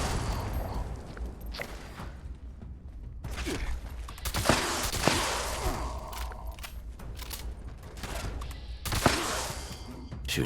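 Gunfire in the video game Fallout 76, with sharp broadband shots clustered near the middle and end over a steady low game hum and scattered mechanical clatter.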